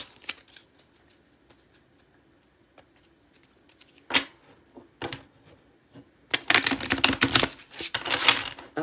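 A deck of cards is riffled and shuffled in bursts, quiet at first, then a loud sustained riffle near the end.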